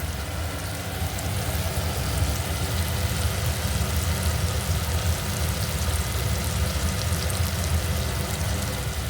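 Onion frying in oil in a pan for a Bengali begun bharta (brinjal) dish, a steady dense sizzle and crackle that runs unbroken and fairly close throughout, with no talk over it.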